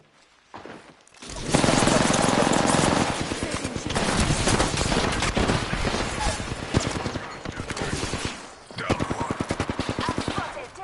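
Video game gunfire bursts out loud and dense in rapid volleys of shots after a brief quiet start, with a short lull before another burst near the end, as a player talks over it.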